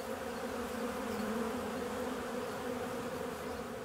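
A continuous, close buzzing of honeybees hums steadily at an even loudness, with no voices.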